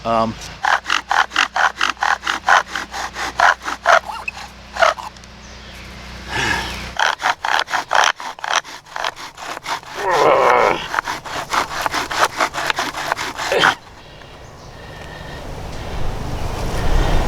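Bow drill with a poplar wood spindle, rhythmic back-and-forth rasping strokes, loud and close, in evenly spaced bursts that pause and resume, ending in rustling.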